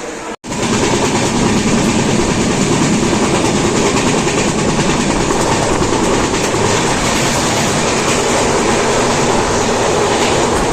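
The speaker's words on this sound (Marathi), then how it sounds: "आपली मांडवी एक्सप्रेस इकडेच येणार आहे" The Mandovi Express rolls into Dadar station with a loud, sustained roar of wheels and carriages close by that fills the whole stretch, with no talking.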